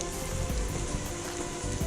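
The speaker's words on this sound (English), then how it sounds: "Rain started to pick up a little bit." Steady rain patters on a rain jacket out on a hiking trail between Gathland State Park and Harpers Ferry, a dense, close hiss of drops with no pause and no voices.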